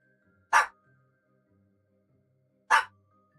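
Two short, sharp dog barks ring out about two seconds apart in a quiet indoor room, each a single loud yap with nothing else around it.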